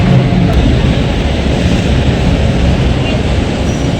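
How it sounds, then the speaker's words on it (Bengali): A train leaves a railway station, a loud, dense rumble of wheels and carriages rolling past close by, steady throughout the few seconds. "ট্রেন তো নামিয়ে দিয়ে চলে গেল।"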